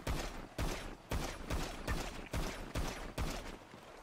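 Rapid, evenly spaced gunshots in a video game, about eight heavy reports roughly half a second apart, fairly faint and with no talking.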